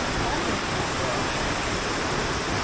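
Benang Stokel waterfall on Lombok, Indonesia, produces a loud, constant roar of falling water, dense and unbroken from start to finish, heard from close range.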